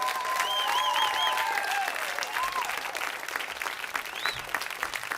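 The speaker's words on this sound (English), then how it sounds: "Ladies and gentlemen, a big round of applause for Mr. Arsenio Hall." A TV studio audience breaks into loud, dense applause that gradually thins and fades over a few seconds, with scattered whoops and cheers on top.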